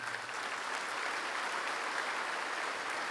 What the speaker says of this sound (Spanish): Démosle un fuerte aplauso a la Madre.